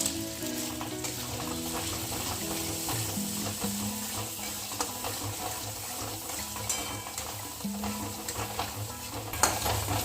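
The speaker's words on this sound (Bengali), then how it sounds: "মশলাটা কষে গেছে" Ground cumin, coriander, chili powder, salt, turmeric, Kashmiri red chili powder, sugar and peanuts fry in a pan with a continuous close sizzle, broken by scraping stirs and the occasional clink over a low background hum.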